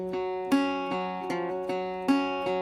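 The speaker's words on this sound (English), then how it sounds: "The first resonator part sounds like this." A resonator guitar plays a simple pop country part droning on the 1 chord, with plucked notes every half second or so over a sustained low tone, clear and alone.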